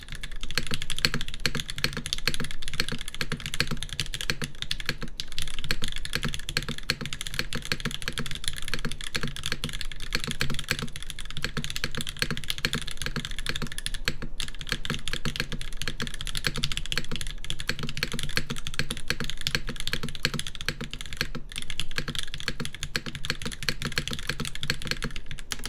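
Continuous typing on a TGR GSK 910 mechanical keyboard with a polycarbonate build and long-pole tactile spacebar, with a steady patter of tactile keystrokes and periodic deeper thocks from the spacebar, close and clear.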